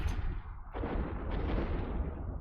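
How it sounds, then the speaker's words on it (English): Hyperion ship firing on the Typhoon in a space battle video game during a Voltron Cup match: dense, continuous barrage of booming weapon fire with rolling, rumbling blasts, loud and sustained with no talk. "Currently, the Hyperion is shooting on the Typhoon"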